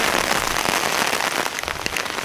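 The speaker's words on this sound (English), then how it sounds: "As we now look at the top of the umbrella, you can see that the rain doesn't just soak into it but remains on the surface." Rain pours steadily onto a Giwil folding automatic umbrella, making a dense, close pattering hiss that holds at an even level throughout with no voices.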